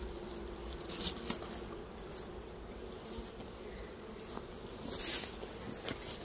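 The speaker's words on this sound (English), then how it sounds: "so the bees are working up here" Honey bees working at a nuc hive fill the air with a steady, close buzz, and a few louder swells mark individual bees passing near around the start and again later on.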